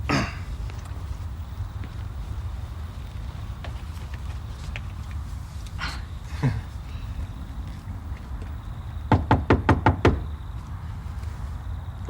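Knuckles rap on a bedroom door in a house in a 1986 Australian TV drama, a quick burst of about five sharp knocks late in the clip against a quiet room background.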